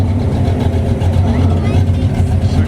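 Mercury Cougar engine idles at an early morning car meet, a close, loud, low rumble with a steady uneven throb throughout.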